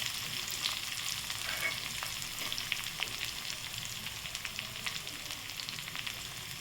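Cumin seeds and garlic frying in hot oil in a pan give off a steady, soft crackling sizzle with scattered tiny pops, continuous and fairly quiet throughout, with no talking.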